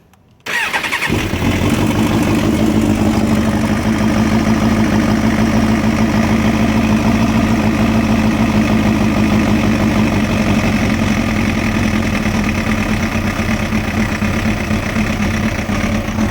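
A 2005 Suzuki GSXR 750 motorcycle engine starts after a brief silence, then idles steadily and loudly while warming up, with a constant rumbling hum throughout and no talk.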